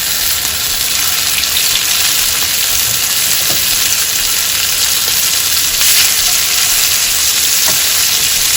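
Costco lamb loin searing in very hot olive oil in a pan, a loud continuous sizzle and crackle that holds steady for several seconds with faint occasional pops, no voices over it.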